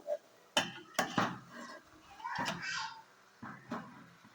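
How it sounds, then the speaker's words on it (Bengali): Beans and potatoes gently stirred in a pan, a few soft clinks and scrapes of a spoon, close and quiet, with a voice talking between them. "আলতোভাবে নেড়ে যেন মিক্স করে দেব"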